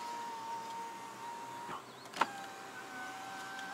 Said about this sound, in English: So if I press this, then the window, the mirrors will fold.